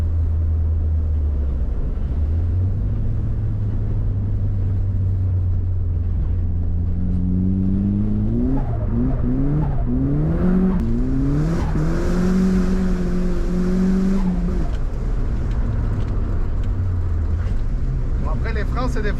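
A turbocharged Mercedes with K-Jet injection accelerates hard through the gears, engine note rising and dropping with each shift over steady in-car rumble, revving loudly near the close, with someone talking over it.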